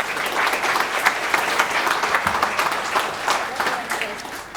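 An audience at a portrait photography talk gives steady, dense applause throughout, a full room clapping together at even loudness.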